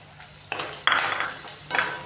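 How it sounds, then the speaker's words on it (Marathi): Chopped onion being stir-fried in a pan for poha: brief bursts of sizzling and scraping as a spoon stirs, three distinct surges over a quiet background, close and fairly loud, with no one speaking. "तो कांदा आता चांगला परतून घेणार आहे"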